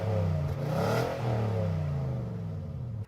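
Nissan Titan Pro-4X pickup with a 5.6-liter V8 engine, heard up close as it starts, then revs quickly and settles into a falling idle before cutting off abruptly, with no talking.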